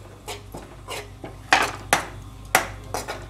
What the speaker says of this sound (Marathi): आता ही प्रथम आपण खारीक टाकून परतून घेऊया